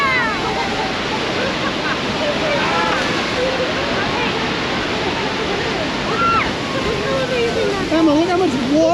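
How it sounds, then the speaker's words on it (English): Niagara Falls roaring up close from the boat deck, a dense, loud, unbroken wash of falling water, with people talking and calling out over it. "look how much water is coming down"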